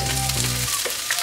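Chopped onions hit hot olive oil in a pan, a loud, steady close sizzle and crackle filling the whole short stretch.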